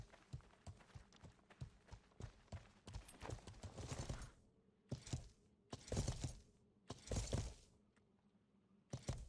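Horse hooves in the medieval game Life is Feudal, a quick run of rhythmic clopping thuds that thins into a few separate bursts, all quiet and without speech.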